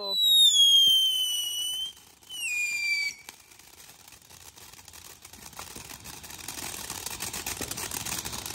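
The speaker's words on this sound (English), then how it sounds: "Dangerous, just like to get right next to the fucking fireworks." Fourth of July fireworks: whistling rockets rise and sweep downward early on, followed by a dense, crackling and sizzling wash of bursts that keeps building, heard at a moderate distance.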